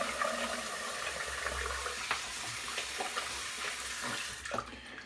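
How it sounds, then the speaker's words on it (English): A Schick Type M injector razor being rinsed under a running tap during a shave, a steady close rush of water with a few clinks and taps, cutting off sharply near the end. "Rinse off."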